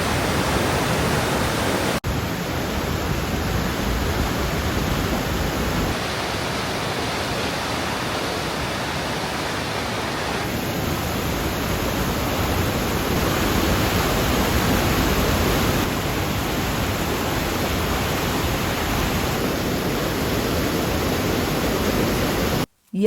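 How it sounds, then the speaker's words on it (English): Large waterfall with water pouring over the edge in wild Irish countryside, a loud, constant roar filling the whole clip with no talk. "The power of the water is immense as it pushes its way over the edge."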